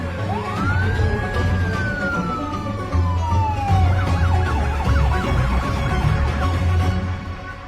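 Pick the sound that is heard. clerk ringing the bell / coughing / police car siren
police car siren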